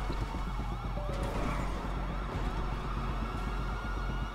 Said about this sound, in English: there's more sirens, bro